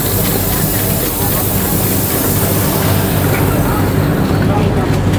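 The 19414 Kolkata–Ahmedabad Express rolls into Dhanbad Junction between platforms, a loud continuous rumble of wheels and carriages with rattling and hissing, heard from inside an AC 3-tier coach.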